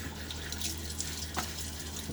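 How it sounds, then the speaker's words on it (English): Running water streams steadily with soft splashes onto a face and a brief louder splash midway, close by, no voices. "Just adding water to my face"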